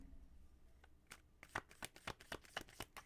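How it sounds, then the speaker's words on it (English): Tarot cards are shuffled after a reading, starting with a couple of isolated flicks and building into a quick, even run of crisp riffling snaps, close and alone. "I just really like to shuffle them a lot after I just did a reading"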